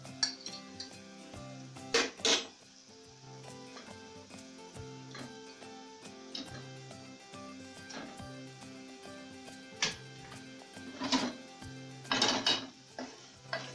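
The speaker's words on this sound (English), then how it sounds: "we are going to add our eggs at this point" Eggs go into an egg curry cooking in a pan. Metal utensils clink and scrape against the pan in scattered knocks, with a low sizzle underneath and no voices.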